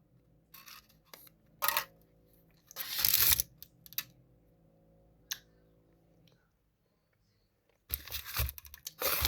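A chocolate bar's wrapper being crinkled and torn open in loud, close bursts, with scattered clicks and crunches between quiet gaps.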